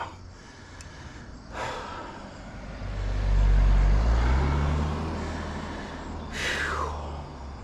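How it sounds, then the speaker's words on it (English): A car approaches and passes on a mountain road, its low rumble swelling to a peak near the middle and fading, heard over a cyclist's heavy breathing and gasps from an evening ride on a Jansno X50. "Car's coming."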